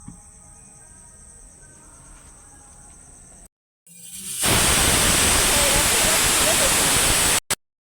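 Pressure cooker cooking pumpkin curry lets out a loud hissing whistle that starts suddenly partway in and holds steady for a few seconds, following a quieter stretch with a faint high tone.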